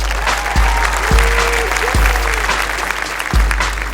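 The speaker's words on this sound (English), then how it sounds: "Let's give another round of applause for our judges." Sustained audience applause at an evening pageant, the 2015 Miss USA preliminary competition, steady and loud with dense clapping throughout and a few low thumps mixed in.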